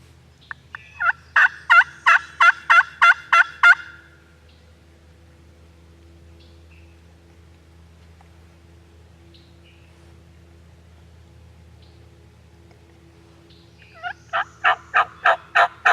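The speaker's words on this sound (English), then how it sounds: "He just gobbled." Wild turkey gobbling in the Indiana woods, a rapid rattling burst of about eight loud notes at the start, then near silence with faint background hum, followed by another gobble sequence at the end.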